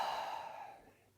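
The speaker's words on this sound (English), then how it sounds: "Deep inhale. Exhale." A single deep, breathy exhale during yoga breathing in a beginner flow, close and soft, fading out smoothly over about a second with no talking.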